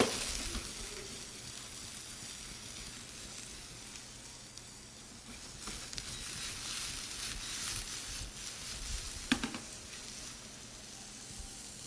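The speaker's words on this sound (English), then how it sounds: "So I've got my mushrooms sauteed, add a little bit of garlic to the pan." Garlic sizzles in a pan alongside sautéed mushrooms, a steady hissing fry with faint crackles and a couple of brief utensil knocks, moderately quiet and uninterrupted by speech.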